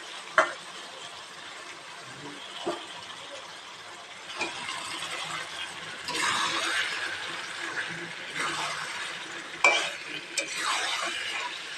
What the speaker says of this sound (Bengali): এবার এর মধ্যে আমি মাংসটা দিয়ে দেবো।